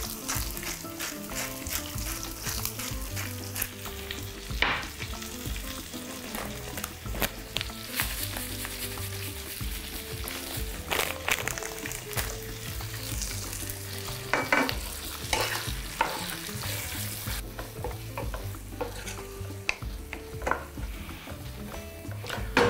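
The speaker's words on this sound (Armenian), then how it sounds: "Սոխը թող տապակվի, կարամելացվի" Chopped onions seasoned with sea salt and sugar fry steadily in a pan, a continuous close sizzle broken by repeated scrapes and clicks of stirring, with no talking.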